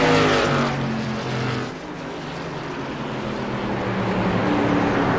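Racing truck engines roar in an esports truck racing game at North Wilkesboro, a steady loud drone of several engines with pitch sweeps as trucks pass, alone without talk.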